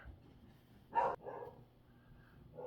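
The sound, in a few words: dog barking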